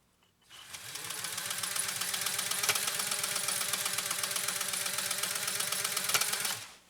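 A restored PFAFF 130-6 sewing machine runs through a stitch with a fast, steady mechanical clatter, loud and close, holding an even rhythm for about six seconds before stopping, with no talking.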